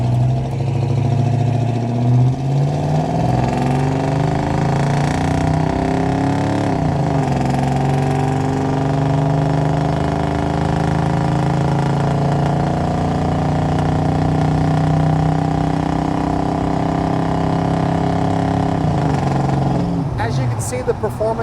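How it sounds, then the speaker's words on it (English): A 1987 GMC Sierra pickup with its original 350 V8 driving on the road, the engine humming steadily and rising and falling in pitch as the automatic transmission shifts through the gears, heard from inside the cab. "Motor feels stock, transmission shifts through the gears well, and it cruises down the road really nice and tight"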